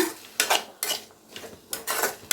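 Potato fry with salt being stirred in a pan, with several distinct scraping, clattering spoon strokes against the metal separated by brief pauses, close and fairly loud.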